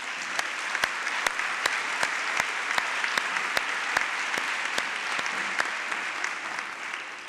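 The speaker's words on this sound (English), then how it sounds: "Let's give that team a round of applause." An audience at a prize announcement ceremony applauds for a team: a steady, dense round of clapping with sharper individual claps standing out, sustained evenly throughout with no talk over it.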